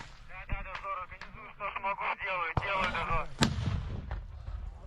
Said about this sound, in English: Here's some explosions.